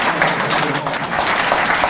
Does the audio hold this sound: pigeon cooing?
no